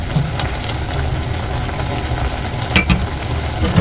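Bitter gourd (ampalaya) and ground meat fry in a pan with a steady, broadband sizzle throughout, a few sharper crackles and stirring scrapes near the end, and no talking.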